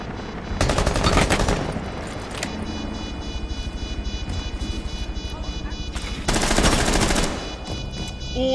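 Rapid bursts of automatic gunfire from a competitive esports shooter match crack loudly in two heavy volleys, with quieter sporadic shots and hum between them, ending as the final clutch round plays out.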